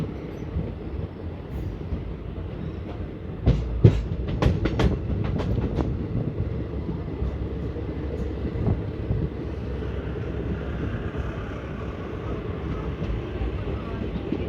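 Mandore Express (22421, Delhi to Jodhpur) pulls out of Pataudi Road station: a steady low rumble of rolling wheels and wagons, with a cluster of sharp metallic clanks and clicks early on, heard from aboard the train.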